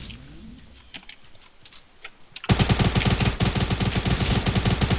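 Rapid, loud semi-automatic gunfire from Fortnite, a dense burst of repeated shots that starts abruptly midway after quieter, scattered game sounds and continues steadily to the end.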